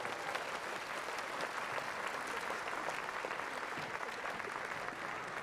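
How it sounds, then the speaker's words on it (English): An audience at a Hawaii gubernatorial inauguration ceremony gives a round of applause, a steady wash of clapping from many hands heard at a distance and fairly faint, with no voices. "How about a round of applause?"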